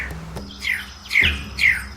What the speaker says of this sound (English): Carola's parotia.